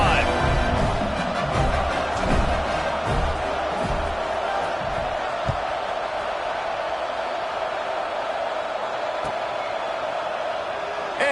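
A big football stadium crowd roars steadily at a kickoff in a Georgia Tech game, a dense, constant wash of cheering that holds at an even level throughout, with faint voices mixed in.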